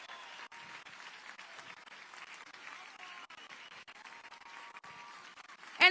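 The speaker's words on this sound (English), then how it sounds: "Let's give a round of applause for Flamenco del Sol, you guys." Outdoor crowd at Orlando's Christmas tree-lighting at Lake Eola applauding the Flamenco del Sol dancers, a faint, distant, steady patter of clapping ending with a brief louder burst.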